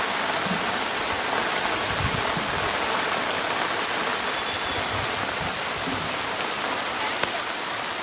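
Heavy rain pours continuously during flooding in Mulugu district, Telangana, a dense, loud, even wash of falling water with low rumbling undertones throughout.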